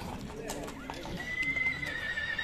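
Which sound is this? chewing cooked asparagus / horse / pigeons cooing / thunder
horse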